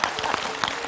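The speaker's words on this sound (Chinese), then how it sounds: "我先掌声感谢一下大家哈" A studio audience at a televised health talk show applauds, giving a short, brisk patter of many hands clapping that sounds moderately distant and fairly soft.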